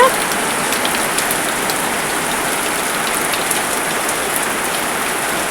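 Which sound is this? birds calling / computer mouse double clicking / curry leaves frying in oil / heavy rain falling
heavy rain falling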